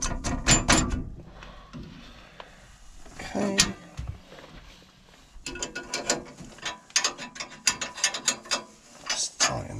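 Ratcheting, clicking mechanism of a lathe fitting being tightened during woodturning of an American ash goblet, heard as loud bursts of rapid clicks near the start and again in the second half, with quieter workshop clatter between.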